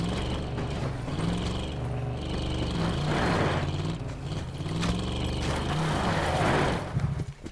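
A car engine in a video game hums and revs continuously, its pitch rising and falling as the vehicle drives, with no voices present.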